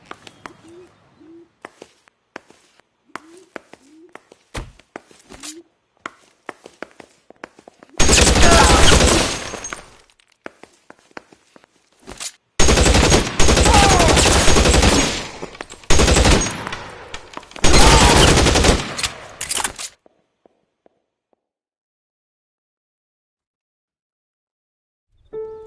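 Gunfire from an L.A. Noire police shootout: long, loud bursts of rapid shots in two main stretches, separated by sparse single cracks and quiet gaps, with a few faint birdlike hoots early on.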